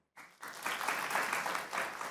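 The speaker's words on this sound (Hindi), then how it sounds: "अगर लोग मेरे साथ एग्री करते हो तालियां बजाएं।" A studio audience on a televised debate show breaks into applause after a brief silence, steady dense clapping that holds at moderate volume to the end.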